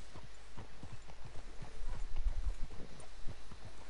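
Horse hooves in a video game western, a steady clip-clop of trotting hooves throughout, moderately close, over soft outdoor ambience with no talk.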